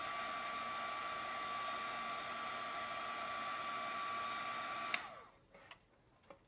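Heat tool blowing to set white embossing powder for a crafting card, a steady loud airy whoosh for about five seconds that then cuts off, leaving a few soft handling taps.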